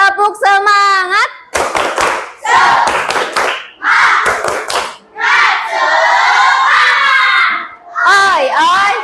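An Indonesian school class does a rhythmic spirit clap, with sharp patterned hand claps alternating with loud, excited children's shouts. A voice briefly leads at the start.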